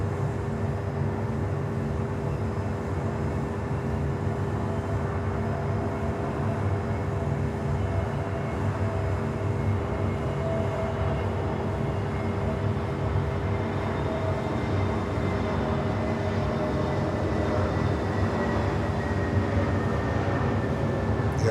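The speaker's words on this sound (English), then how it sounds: "Here we go, Avianca 320 Neo." An Avianca Airbus A320neo at Miami Airport produces a steady, continuous engine rumble with a constant whine, moderately distant and unbroken throughout.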